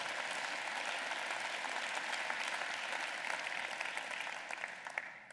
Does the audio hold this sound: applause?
yes